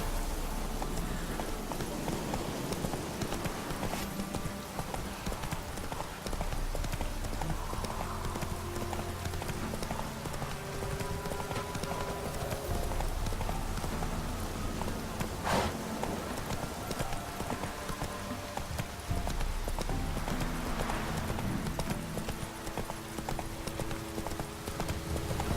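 Hooves pound in a fast, unbroken gallop as Roach the horse runs through The Witcher 3, close and continuous, with a brief whinny and game background sound beneath.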